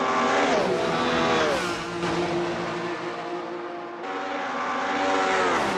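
Alfa Romeo 155 touring car engine in a racing video game, a loud, steady buzzing drone that dips in pitch twice as the driver lifts or shifts, then climbs again along a straight.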